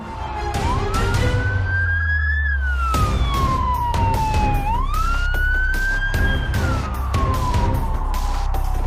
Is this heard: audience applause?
no